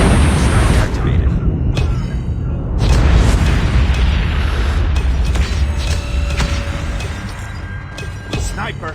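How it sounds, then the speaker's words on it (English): Nuke detonation in the Call of Duty Mobile video game: heavy booming blasts with a deep, sustained rumble and mechanical clatter, loud and close, with game voice callouts over the top. "Friendly nuke has been launched"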